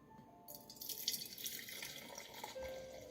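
Dark Recoltant Coombsville Napa Cabernet Sauvignon pours into a wine glass, a steady splashing trickle that swells after a brief quiet start and runs on for a few seconds, close and soft, with no talking.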